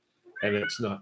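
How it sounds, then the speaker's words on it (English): A cat meows twice in quick succession, close and fairly loud. "That was a cat."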